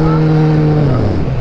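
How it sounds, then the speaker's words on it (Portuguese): A Kawasaki Z1000 motorcycle accelerates very loud and close-up, its engine note holding steady and then dropping slightly over one short, continuous burst. "E agora uma puxadinha."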